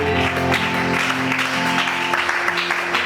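A church congregation applauding and cheering during a sermon, a dense, loud wash of clapping with a steady held tone running under it throughout.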